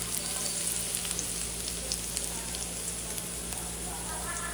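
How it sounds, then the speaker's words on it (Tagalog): Garlic sautés in a pan, a steady close sizzle with fine crackles and an occasional stirring clink, over a low background hum. "bawang, igisahin natin hanggang saan din natin mag brown"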